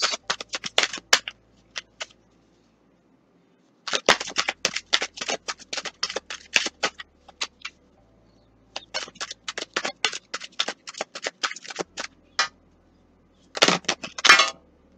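Tarot cards are shuffled and dealt in quick bursts of crisp riffling and snapping, with pauses between groups and a dense flurry near the end, close and alone without talk.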